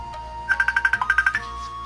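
A phone ringtone chimes in a quick, even run of about a dozen bright electronic beeps, fairly clear against a quiet background, then stops.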